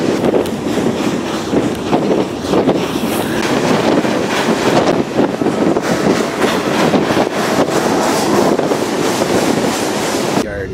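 A freight gravel train in Ohio, heard while riding aboard, gives a loud continuous roar and rumble mixed with heavy wind buffeting the microphone, with no pauses and no talk.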